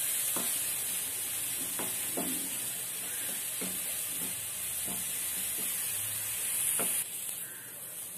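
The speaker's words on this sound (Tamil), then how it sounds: "வெங்காயம் நல்லா வதங்கிடுச்சு." Onions sauté in a pan for a crab curry, sizzling steadily, with spoon-stirring scrapes and clinks at irregular intervals, all close and moderately loud with no talking.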